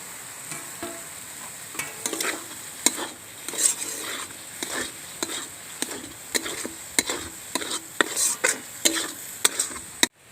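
Lote fish chop filling sautéing in a pan, stirred with irregular close scraping and clinking strokes over a low sizzle and a faint high hiss, with no speech.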